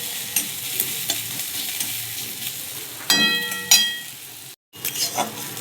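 Onion, garlic and chili frying together in oil in a pan, a steady close sizzle broken by a few louder stirring scrapes, with a brief dropout near the end.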